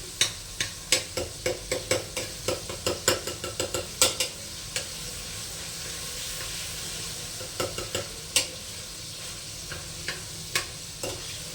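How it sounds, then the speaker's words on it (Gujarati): Finely chopped apples sauté in oil in a pan until brown, a soft continuous sizzle broken by quick rhythmic scrapes and taps of a stirring spoon, close and clear with no talking. "એકદમ રીતે સરસ રીતે આને ચડવા દેવાનું છે એપલને જ્યાં સુધી બ્રાઉન ન થાય ત્યાં સુધી"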